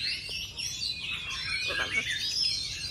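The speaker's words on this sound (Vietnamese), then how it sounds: "Con này người ta gọi nó là vẹt Macau nha" Macaw parrot in a noisy setting, giving shrill squawking calls and chirps in quick bursts, close and fairly loud over a busy background.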